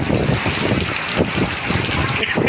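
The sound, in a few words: flood water flowing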